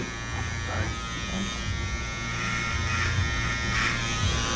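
A loud electric hair trimmer buzzes steadily and close, a constant motor drone with slight wavering in pitch as it moves through hair during a haircut, with no talking.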